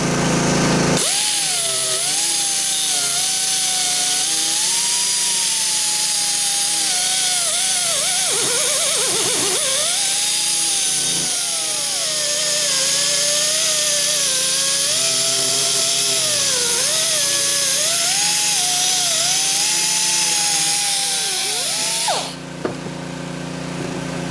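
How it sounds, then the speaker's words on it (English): Die grinder cutting the threads off a spark plug from a Yamaha Banshee, a loud, close, sustained high-pitched whine whose pitch wavers as it bites into the metal, running for about twenty seconds before stopping abruptly. "What I always do is just use a die grinder."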